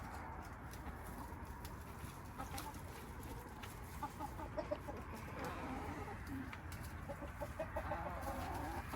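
Backyard chickens cluck and murmur softly over a steady low outdoor hiss while pecking at black walnuts, with a few brighter clucks rising out of the flock.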